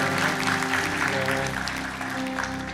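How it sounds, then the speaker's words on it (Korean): A congregation at Irvine Onnuri Church's Sunday service gives loud, sustained applause for two families, the clapping continuing under music and a voice. "이 두 가정 위해서 다시 한번 큰 박수로 함께 기도하겠습니다."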